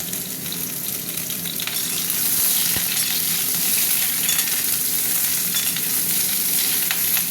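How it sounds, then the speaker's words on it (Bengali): Ridge gourd, pointed gourd and potato fry together in hot oil in a kadai, a loud, dense, continuous sizzle and crackle heard close up without pause. "এবার আমি সবজিগুলো দিয়ে দিই, একসঙ্গে ভাজবো, বুঝেছো? ঝিঙে, পটল, আলু, এই তিনটে জিনিস আছে।"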